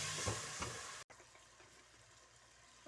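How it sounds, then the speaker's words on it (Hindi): Onion and chillies sizzle in a pan with salt as water is added, a loud broadband hiss for about a second before dropping to a quieter, steady simmering crackle, heard close with no talk. "2 टेबल स्पून पानी डालूंगी कि मिर्चें जल ना जाए।"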